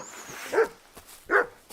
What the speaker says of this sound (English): It's not mutt, it's a wild dog.